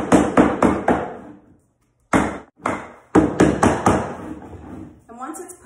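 Vinyl plank flooring is tapped gently into place in quick clusters of three or four sharp, close knocks, separated by short pauses.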